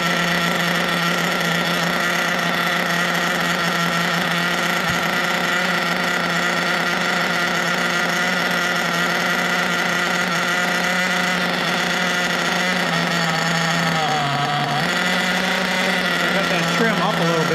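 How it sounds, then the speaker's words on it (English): A nitro engine idles during break-in, a loud, steady, buzzing drone that dips noticeably near the end before picking back up. "you'll hear that go up and down, the idle go up and down"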